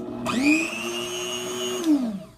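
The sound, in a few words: Dremel rotary tool with flex shaft running on high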